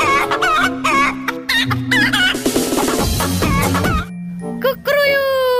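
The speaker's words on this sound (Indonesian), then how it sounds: "Wow, ayam jago" A game rooster gives clucks and a crowing call amid jingling toy-like music and chimes, close and loud, with a voice speaking intermittently.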